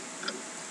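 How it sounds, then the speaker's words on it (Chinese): A clock ticks faintly in a video game room, with one brief soft tick over a steady background hum. "时钟有点吵"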